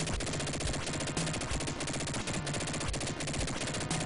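Rapid, evenly repeating gunfire from the Dick Tracy game on the Sega Genesis, steady and continuous, set against dense retro game music and effects.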